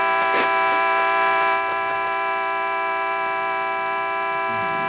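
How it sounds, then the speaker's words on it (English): A car horn blares as one long, steady tone, loud and unbroken, fading slightly after the first second and holding on with no talk over it. "there's somebody out here honking his horn."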